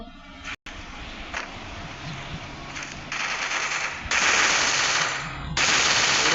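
Rapid bursts of automatic gunfire in the video game Free Fire, loud and sustained, getting denser and louder toward the end, with no talking.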